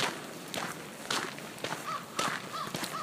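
Footsteps crunch along an outdoor path toward a creek at a steady walking pace, fairly quiet, with a bird calling faintly in the background.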